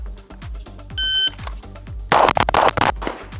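Pistol shots from a ported Limcat Wildcat, several sharp close cracks in quick succession near the end, preceded by rhythmic clicks and a brief electronic beep from timing gear.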